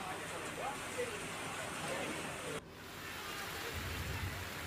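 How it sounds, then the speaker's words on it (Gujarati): Heavy rain driven by strong wind falls on Junagadh city in Gujarat, a soft, wide hiss that stays fairly faint and steady. The sound breaks off briefly partway through before the rush resumes. "જૂનાગઢ શહેરમાં ભારે પવન સાથે વરસાદ પડ્યો।"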